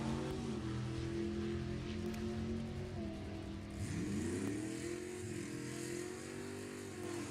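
A 1969 Mopar Cuda drag racing car at an NHRA nostalgia event, its engine a loud, steady rumble with rising revs partway through, heard alone and up close.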